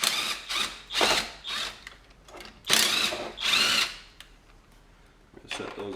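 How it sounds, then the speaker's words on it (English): A power drill backs out two bolts over a scooter's carburetor intake, whirring in a series of short loud bursts with pauses between them, close up. "We're going to remove our two bolts over our intake."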